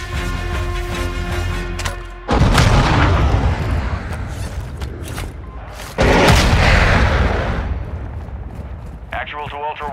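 Missile strikes and explodes, destroying an aircraft in Call of Duty Warzone 2: two heavy, booming blasts a few seconds apart, each with a long rumbling decay, loud and close, with game sounds between them.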